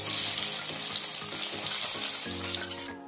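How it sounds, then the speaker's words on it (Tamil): Large onions frying in about 50 grams of oil with whole spices, a steady loud sizzle filling the whole stretch with low rhythmic scraping of stirring underneath, cut off abruptly at the end. "இந்த பெரிய வெங்காயத்தை நல்லா பொன்னிறமாக வர வரைக்கும் வதக்கணும்"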